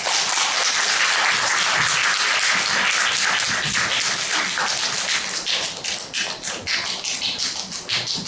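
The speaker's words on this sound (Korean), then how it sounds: "같이 큰 박수로 교수님을 앞으로 모시도록 하겠습니다" An audience applauds to welcome a lecturer at a science talk, a loud, dense burst of many hands clapping that thins toward the end into scattered claps.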